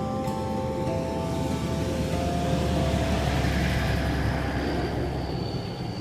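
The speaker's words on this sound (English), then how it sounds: "like a yucky, loud truck comes by" A loud truck passes by outside, a steady broadband rumble and roar that fills the whole stretch without pause, with a faint high whine drifting in toward the end and no talk.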